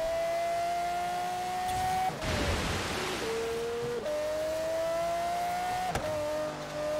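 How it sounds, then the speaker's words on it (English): Vehicle engine in the racing game Forza Horizon 3, a truck passing during free roam, heard as a steady revving tone broken by gear shifts and a burst of broadband rush midway, fairly loud throughout. "There goes Swag and Forza King in his truck."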